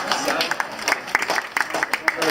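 Audience clapping at a magic show, a scattered burst of claps with irregular sharp hits, while a voice talks over it.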